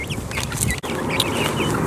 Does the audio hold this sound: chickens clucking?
yes